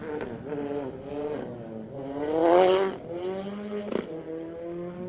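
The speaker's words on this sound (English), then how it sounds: "Mazda 2 AP4 cars." Mazda 2 AP4 rally car on a New Zealand rally stage, engine note rising and falling through gear changes with a loud surge of revs near the middle, a sharp crack, then continued driving close by.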